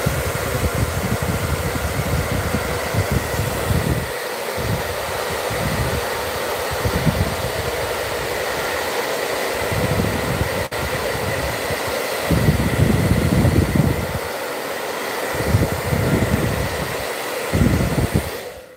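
A hair dryer blows steadily over crackle-finish paint on a rustic jewelry box, its continuous whooshing airflow filling the space with low rumbling fluctuations as it is moved around, with no talking.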